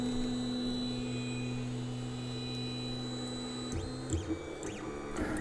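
A Longer LK1 (Alfawise U20) 3D printer runs its auto-home routine: a steady electrical hum throughout, then stepper motors whine with rising and falling pitched sweeps near the end, close by with no talk.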